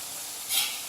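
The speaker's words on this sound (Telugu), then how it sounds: "ఇవి గోల్డెన్ బ్రౌన్ కలర్ వచ్చే వరకు మంచి కరకరలాడే వరకు వేయించుకోవాలి" Rice-flour sakinalu snacks frying in oil in a kadai, a steady close sizzle and hiss of bubbling oil with a brief louder surge midway.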